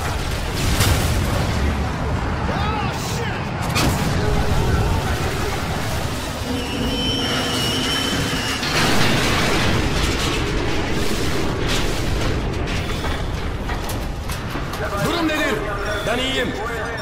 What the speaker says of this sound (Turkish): Roket atar.